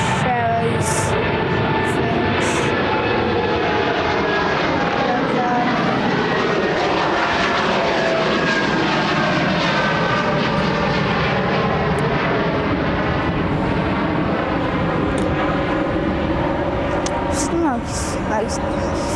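A fixed-wing airliner passes overhead at London Heathrow Airport, seen from Myrtle Avenue. Its engine roar is loud and steady throughout and fills the whole stretch as the jet flies over.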